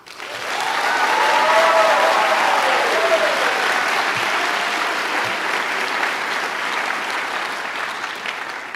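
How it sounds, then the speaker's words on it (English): A large audience at a university bioengineering graduation celebration claps loudly and steadily for graduating doctors, a dense wash of applause that swells quickly and holds for several seconds, with faint voices and cheers mixed in. "can I please get another big round of applause to this group of current and soon-to-be doctors?"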